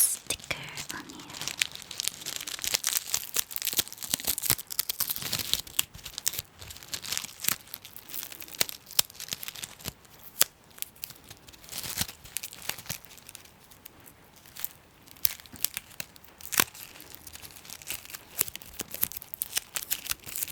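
A sticker being slowly peeled off an item in a quiet close-up setting: faint crinkly tearing and small crackles spread over time, with soft whispered speech drifting in and out.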